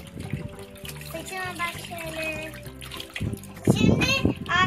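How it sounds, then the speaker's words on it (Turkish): Water is poured and splashes while a toy doll is rinsed outdoors, giving gentle trickling and a louder gush near the end, with children and an adult talking over it. "Dök dök dök dök dök. Durulayın güzelce."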